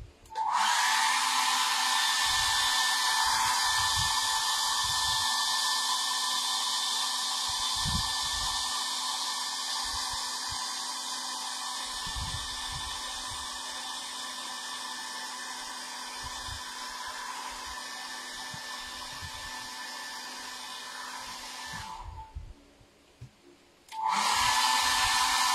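A hair dryer blows steadily to dry paint on a custom repainted Resident Evil Hunk action figure, a loud continuous whoosh with a faint motor whine that cuts out briefly near the end and then resumes.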